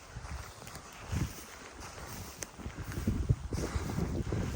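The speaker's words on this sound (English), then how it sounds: "the wind's changing direction" Wind gusting at a camp on the edge of a forest, buffeting the microphone in uneven rumbling surges that build louder toward the end.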